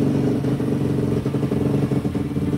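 A Daytona 212 cc motorcycle engine idles steadily up close, a dense low-pitched mechanical rumble with light clatter running unbroken throughout, no voices over it.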